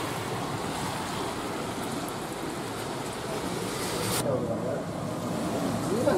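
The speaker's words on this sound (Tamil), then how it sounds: "திடீரென பெய்த கனமழையின் காரணமாக சாலைகளில் தண்ணீர் பெருக்கெடுத்து ஓடியது." Heavy rain pours in Kodaikanal while water flows across the roads, producing a loud, steady, dense wash of noise that continues without a break and swells slightly near the end.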